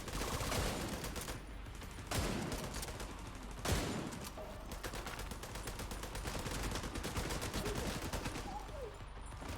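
Sustained gunfire with fire rounds in The Division 2, a dense stream of rapid shots and bursts throughout, with sharp louder cracks standing out now and then over the constant clatter.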